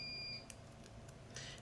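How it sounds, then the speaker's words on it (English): Backup battery for an NBN fibre internet connection gives a short, high electronic beep, then quieter chirps in a hushed room. "That beep is the battery for our NBN, our fiber internet."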